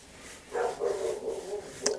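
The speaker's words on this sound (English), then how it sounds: "Dog's annoying, mate. Hopefully it will be quiet soon." A dog barks several times in a short run of yips and woofs, moderately distant and a little muffled, followed by one sharper, louder bark near the end.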